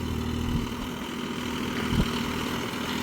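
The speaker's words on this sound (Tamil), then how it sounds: "மெயினாக இன்ஜின் பார்த்தீங்கன்னா ஒரு ஆர்பிஎம்மில் உட்காந்து ஓடுறக்க ஆரம்பிச்சதுன்னா அதே ஆர்பிஎம்மை மெயின்டைன் பண்ணுதுங்க" A Mahindra OJA 3140 40 HP 4WD tractor's 3-cylinder engine runs at a steady idle-like RPM, a continuous close low rumble with even tone and no talk.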